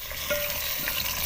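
Chicken going into lightly browned onions frying in a pan, with a steady close sizzle and a soft stir, then a brief sharp clank at the very end.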